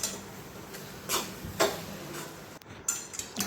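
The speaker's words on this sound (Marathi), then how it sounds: "आता सर्विंग प्लेटमध्ये आपण भाजी काढून घेऊ" Cooked cluster bean (gavar) curry being scooped into a serving plate, with a few sharp spoon-on-dish clinks and taps spaced out over a low kitchen background.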